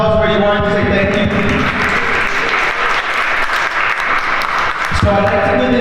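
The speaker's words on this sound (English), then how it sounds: "give yourselves and those that threw this event a round of applause" An audience at a Jersey City tech meetup claps in a loud, sustained round of applause that fills the room, with talk mixed in over the clapping.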